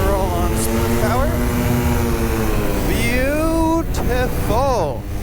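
A motorised trike engine spooling up for takeoff, a steady droning tone that climbs in pitch as power comes on, with a voice talking over it.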